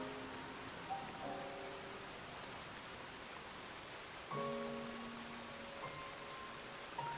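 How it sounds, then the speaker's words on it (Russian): Steady pouring rain from the video game Rain, a dense hiss of downpour on surfaces with faint tonal music notes drifting over it, no voices. "Даже приятно, если честно, вернуться по проливной дождь"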